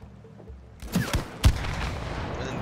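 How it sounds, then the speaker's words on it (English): Gunfire in the co-op video game It Takes Two: a few sharp shots at close range, with two or three distinct bursts in quick succession over a rumbling game soundtrack. "shoot the thing behind us"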